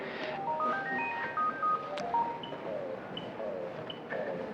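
A telephone sounds in a conference talk setting, a run of stepped electronic tones like a melodic ringtone or dialing, followed by a few brief beeps, fairly clear over a soft background.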